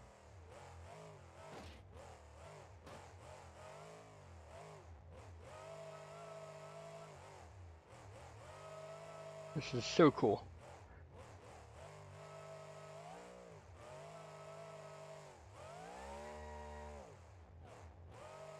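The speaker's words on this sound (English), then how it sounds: "It's just a regular Merlin engine, moves up front." A Merlin aircraft engine mounted up front in a monster truck in BeamNG.drive revs steadily with harmonic drone, rising and falling in pitch, with a brief louder burst midway; a voice briefly speaks.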